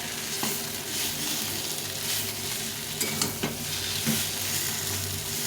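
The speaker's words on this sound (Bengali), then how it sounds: "এই আলুটাকে ভালো করে কষিয়ে নিয়েছি।" Small sticky potatoes stir-fried in a pan, a steady sizzle and frying crackle with occasional scraping stirs of the spatula, close and continuous with no talk.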